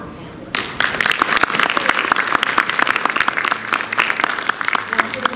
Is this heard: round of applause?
yes